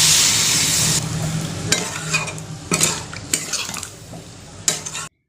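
Soya chunks frying in a little oil in a pan at home as water is poured in, a loud hiss at first that drops away, followed by scraping stirs and clinks of a utensil against the pan.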